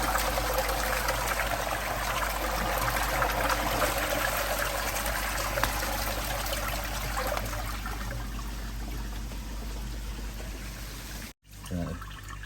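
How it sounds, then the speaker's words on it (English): Dirty water pump draining pond water down a garden gives a continuous rushing, trickling water sound, loud and steady throughout with a brief dropout near the end. "you can hear the dirty water pump come on"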